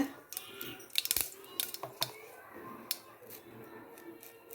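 Mustard seeds crackling and popping in hot sesame oil in a pan, a scatter of small sharp pops in a quick burst that thins out to sparse crackles.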